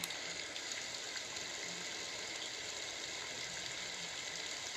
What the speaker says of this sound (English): And we have Rain.